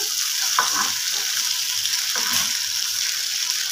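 Bata fish fry in a pan with a steady hissing sizzle, close and moderately loud, with a few faint bumps of movement underneath.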